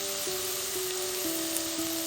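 Shallots sizzle steadily in a hot pan, a close, continuous hiss with a faint recurring tone underneath, no talking.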